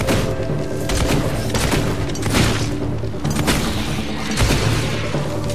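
Pistol gunfire in the video game Fable II, a dense run of booming shots and thuds layered over continuous game sound and music, loud and close.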